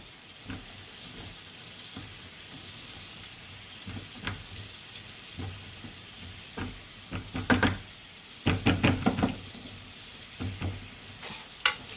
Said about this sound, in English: We're gonna let that corn cook for a little bit, get that garlic sautéed a little bit